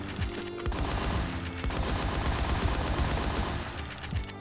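Rapid automatic gunfire in a shooting video game, a loud continuous burst of shots lasting several seconds with brief gaps at the start and end.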